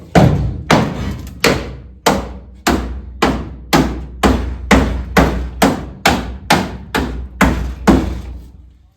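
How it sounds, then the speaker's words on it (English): A hammer beats small sheet-metal tabs into place on a Toyota Camry body, about fifteen loud, close metallic blows in a steady, even rhythm, each ringing out briefly before the next. "So I beat these in just with a hammer."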